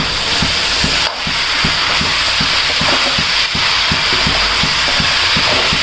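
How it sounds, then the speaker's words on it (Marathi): Bhogi mixed vegetable dish with crushed peanuts fries in a pan with a loud, steady sizzle and rhythmic scraping strokes of a stirring spoon, no talk. "छान फ्राय करून घ्यायचं याला."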